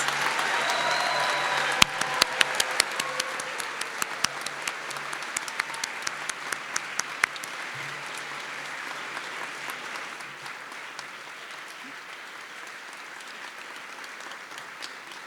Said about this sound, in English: May we please have a round of applause for all of our new National Honor Society members?